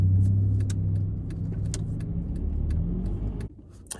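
A car on a city street idles and pulls away, a steady low engine drone with small jangles and clicks, ending in a sudden drop to quieter street noise.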